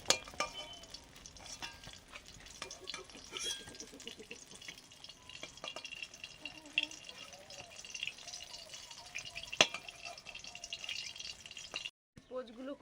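Eggs being poached in a frying pan while aubergines are roasted alongside, a steady soft sizzle of frying running through with occasional clinks and stirring, faint voices and kitchen activity in the background.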